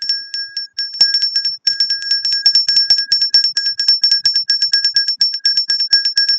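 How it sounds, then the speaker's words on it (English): A small handheld bell, like a bicycle bell, rings loud and close in rapid repeated dings with only a couple of brief pauses, continuing for several seconds. "right now, I'm going to ring the bell"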